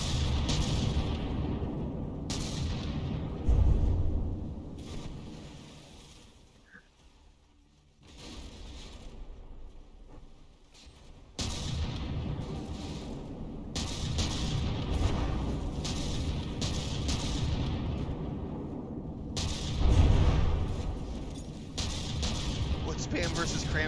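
Cram cannons and shotguns fire between battleships in From The Depths, a steady roar of booming shots and explosions with a few louder blasts and brief lulls, and a voice talks over the battle.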